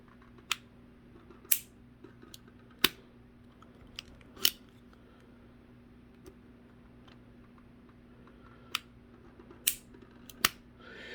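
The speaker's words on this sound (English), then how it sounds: "You almost don't hear that first click. You almost only hear 3 clicks." The hammer of a Tanaka Colt S.A.A. .45 Artillery gas revolver with a 5.5-inch barrel and steel finish is cocked, giving a series of sharp, dry, close clicks spaced irregularly against a quiet background.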